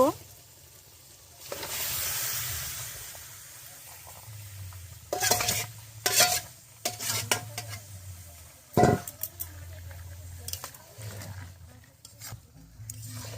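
Mutton is stir-fried in gravy in a pot, a low bubbling sizzle with repeated utensil scrapes and clanks of varying loudness, plus a rushing burst early on.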